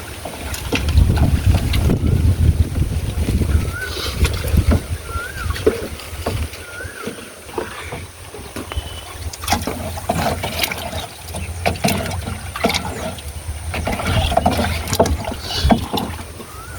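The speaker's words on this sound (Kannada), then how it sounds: "ಇದನ್ನ ಚೆನ್ನಾಗಿ ನೀರಿನೊಳಗೆ ಮಿಕ್ಸ್ ಮಾಡ್ತೀವಿ" A banana fertilizer mixture is swirled through a large drum of water, making steady close sloshing and splashing with irregular thumps and brief pauses between strokes, some wind noise underneath.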